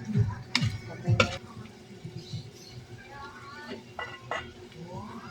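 Vegetables tossed with chicken in hot oil for pancit bihon, with spatula scrapes and clatter against the pan over a soft sizzle, loudest at the start and easing into lighter stirring.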